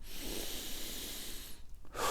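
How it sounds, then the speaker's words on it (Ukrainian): Deep breaths drawn in through the nose during a health-focused running session, a steady close airy inhale lasting over a second, then a brief pause and the start of another sharp sniffing intake. "Я вам рекомендую зробити декілька вдохів через ніс глибоких"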